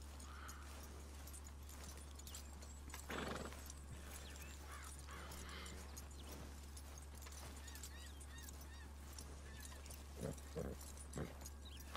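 Horse hooves clip-clop in Red Dead Redemption 2 over a steady low hum and ambient noise, with a few brief snorts or whinnies near the end.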